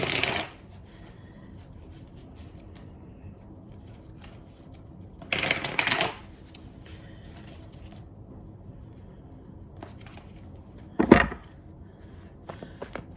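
A few brief bursts of shuffling tarot cards, short riffles separated by quiet stretches, close and fairly soft.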